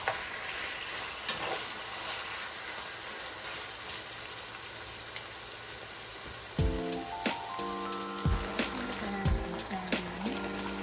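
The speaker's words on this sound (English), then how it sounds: "my meat is in the pan" Pork bulgogi meat fries in a pan with a steady crackling sizzle; a few louder clanks and tonal scraping sounds from the pan join in toward the end.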